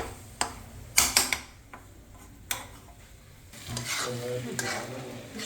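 Onion frying in oil for a Vidarbha-style khandoli bhaji, with sharp clatters of a spoon stirring against the pan over a soft, crackling sizzle that swells toward the end.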